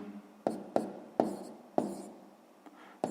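A pen taps and scratches out a math answer on paper, a handful of sharp close strokes in an irregular rhythm with short scratching trails, quiet and alone.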